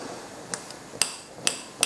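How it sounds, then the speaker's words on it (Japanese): A knife chops canned chickpeas on a cutting board, with four sharp, separate knocks spaced about half a second apart, close and fairly loud. "これを今から適当にナイフで刻んでいこうと思います。"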